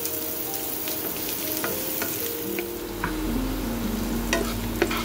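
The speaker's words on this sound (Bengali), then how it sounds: "পেঁয়াজের সাথে হিংটা ভাজা হয়ে যাবে।" Onions with asafoetida fry in a pan for a jackfruit-seed dhokar dalna, a continuous close sizzle with occasional scraping stirs and small clinks, and no talking.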